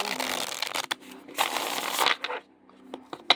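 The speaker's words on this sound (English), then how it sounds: "Shuffle's amazing." A deck of playing cards being shuffled up close, with several quick riffling bursts separated by short pauses and a sharp final snap.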